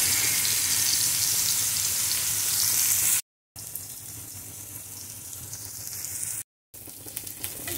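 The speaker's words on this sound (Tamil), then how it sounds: "ஒரு சைடு நல்லா வேகட்டும்" Fish fries in hot oil in a pan, a loud, dense, steady sizzle that cuts out twice for brief silent gaps, with no talk.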